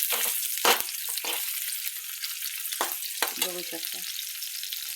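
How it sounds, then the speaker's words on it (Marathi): Green chilies hit hot oil and fry with a steady, bright sizzle and crackle, punctuated by a few sharper pops and stirring clatters, while someone speaks briefly. "मस्त असं तेल तापू द्यायचं. आधी हिरवी मिरची टाकायची बरं का."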